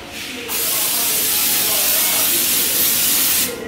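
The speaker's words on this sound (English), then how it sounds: "use a spray instead of putting oil or butter into" Cooking oil spray shot into a pan gives one loud, continuous close hiss lasting about three seconds, starting and stopping abruptly, with quieter kitchen noise before and after.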